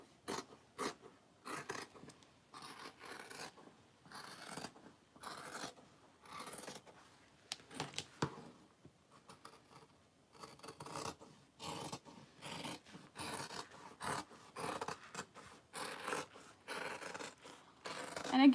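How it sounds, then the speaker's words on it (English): Scissors snip through waterproof canvas for a vanity bag, a close, quiet series of irregular crisp cuts and rustling fabric with brief pauses between strokes. "put it right sides together, and then sew it and then cut it"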